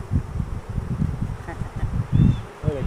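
A dense swarm of bees hums steadily around an open hive, a close, low buzzing drone with rustling as frames are handled.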